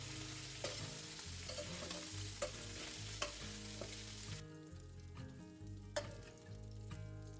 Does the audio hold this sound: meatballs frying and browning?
yes